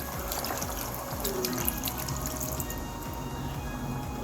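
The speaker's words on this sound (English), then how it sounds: "So I'm going to add a little water to it." Water is poured into a pot of goat meat stew, giving a continuous soft trickling and splashing that stays steady and moderately quiet throughout.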